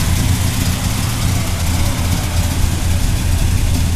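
A 1972 Chevrolet Chevelle SS with a 355 engine idles close by, a loud, steady low rumble with an even throb and no voices.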